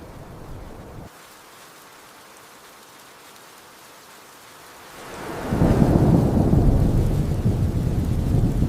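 Quiet rumbling ambience gives way to a sudden heavy downpour of rain, a dense loud hiss that swells in around the midpoint and continues steadily.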